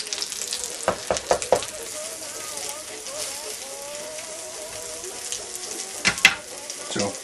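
Savory French toast soaked in egg sizzles steadily in a hot pan, a constant bright frying hiss broken by occasional louder crackles and clatters as pieces are turned, with a voice talking over it.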